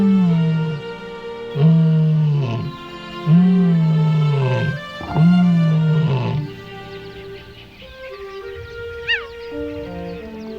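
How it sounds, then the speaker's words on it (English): A lion in the East African wild gives a series of four loud, drawn-out roars at an even pace, followed by quieter grunting calls. "A lion's powerful roar calls the pride."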